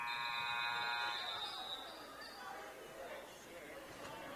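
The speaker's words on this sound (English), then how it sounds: "they're beeping the horn as that ball was launched into play." At a high school basketball game, the Holiday Hoopfest, a shot clock horn sounds a steady electronic buzz for about a second, then gives way to crowd chatter and an announcer's voice in a gym.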